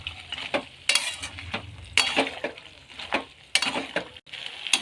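Meat tossed with boiled potatoes and peas in spices is stirred in a pan, with repeated scraping strokes in an uneven rhythm over a soft, steady sizzle, close and fairly quiet with no talking.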